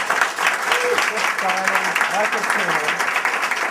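A theatre audience applauds in a dense, lively burst of many hands clapping, while a voice speaks over it.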